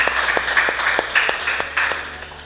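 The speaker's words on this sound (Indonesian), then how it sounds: "beri tepuk tangan untuk kelompok 1" Classroom applause for the first student group, a handful of sparse, separate claps spread across a couple of seconds, fairly near and moderately loud with a faint room murmur behind.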